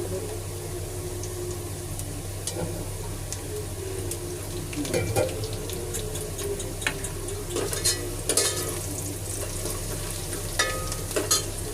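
Onions fry in a pan for a Punjabi kadhi, with a steady close sizzle, occasional stirring scrapes and small crackling bursts that grow busier toward the end.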